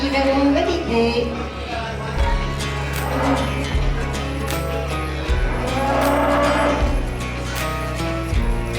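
A cow lows repeatedly at an equestrian show, long deep moos rising over steady outdoor crowd and arena noise, fairly close and loud, with people talking faintly in the background.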